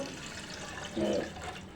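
About three cups of water pour into a pan for masala tea, a steady close hiss of running liquid with a brief murmur of voice near the middle.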